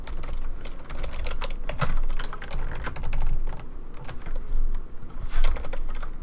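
Rapid computer keyboard typing during a live coding session, dense irregular clatter of keystrokes close to the microphone, continuous throughout with no speech.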